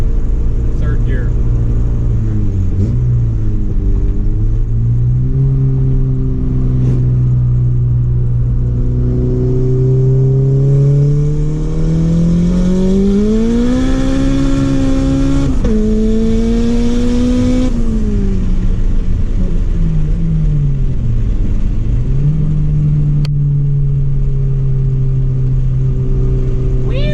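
A Honda Civic engine revs hard through the gears from inside the cabin, loud and close, rising in pitch with each pull and dropping at the shifts.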